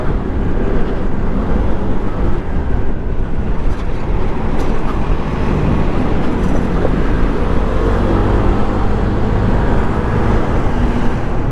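Car traffic on the C5 road heard from a moving motorcycle, a loud dense roadway rumble with engine drone and wind noise, continuous and close throughout.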